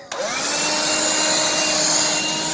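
A Black and Decker Dustbuster handheld vacuum switches on with a click and runs at a steady, loud, close whine for a couple of seconds, with no one talking.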